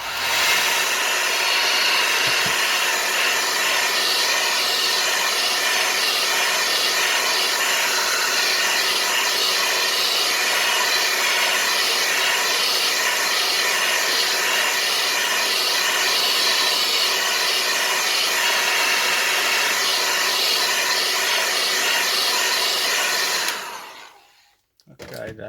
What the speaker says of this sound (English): If you have a hair dryer, you can use it to heat the glue.